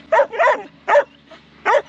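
Dogs bark in a hot open field, four loud, close barks in uneven bursts over a low steady background hum, with no talk.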